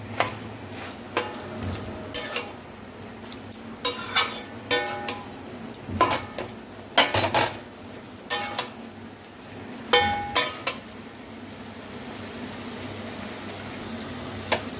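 A spoon clinking and scraping in a pot of mixed vegetable curry with a hilsa fish head, irregular sharp ticks and knocks over a soft bubbling simmer, close and fairly quiet, no talking.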